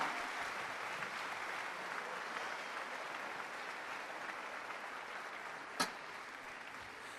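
A church congregation claps steadily together, a soft continuous wash of applause heard from a distance, with one sharp knock partway through.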